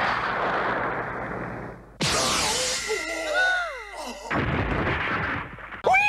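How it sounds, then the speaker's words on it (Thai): Spirit bullets fire from a fingertip in a Skibidi Toilet animation: a sudden loud burst cuts in mid-clip, followed by sweeping whistling tones and further heavy blasts, set over a dense rumbling background. "กระสุนวิญญาณยิงออกจากนิ้วนะครับ"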